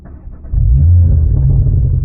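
Audi RS3 five-cylinder engine with an aftermarket exhaust, a faint idle that swells abruptly into a loud, deep, booming rumble held steady for over a second, close by.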